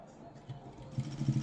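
A sewing machine stitches a blouse, its needle running in a soft, quick rhythmic patter that grows steadier and slightly louder toward the end, fairly faint, with a voice present.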